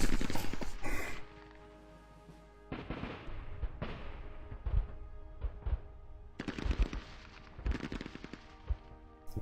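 Bursts of machine gun fire rattle in short volleys in a WWII combat video game, with rapid clattering shots separated by brief pauses and quieter gaps.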